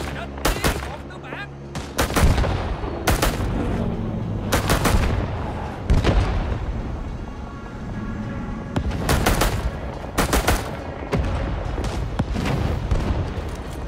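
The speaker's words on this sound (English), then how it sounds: "We're just doing some M1 carbine sniping, you know how it is." M1 carbine gunfire in the Rising Storm 2 video game, with repeated loud sharp shots and bursts across a noisy battle backdrop, some near and some more distant.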